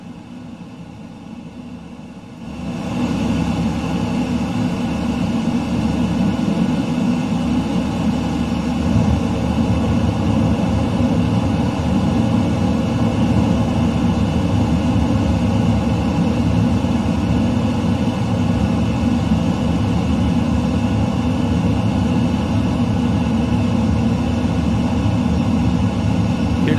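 Steady roaring wind and turbulence on an F-15E Strike Eagle in Microsoft Flight Simulator 2020 during a hurricane, quiet at first, then swelling into a loud continuous rumbling drone that holds throughout without talk.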